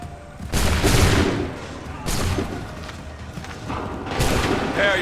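Musket volleys fired on command in Assassin's Creed 3, with three loud, booming crackling bursts of massed gunfire spaced about two seconds apart, each ringing out and decaying.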